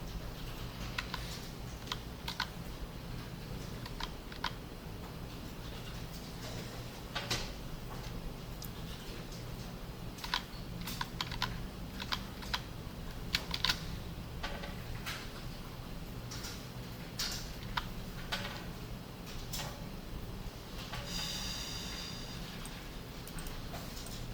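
Keys clatter in irregular bursts on a computer keyboard during a coding session, with steady close taps and scattered louder clicks over a low constant hum, no one speaking.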